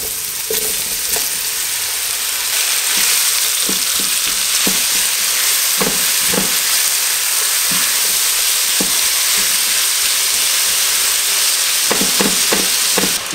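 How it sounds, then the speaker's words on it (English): Mushrooms sizzle and fry steadily in hot oil, with occasional clacks of a utensil stirring the pan while cooking vegan egusi. "With this same oil, I'll be frying our"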